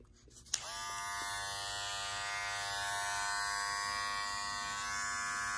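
Gamma+ Skin balding hair clipper switched on with a click, then a steady high-pitched electric buzz running continuously, close and moderately quiet.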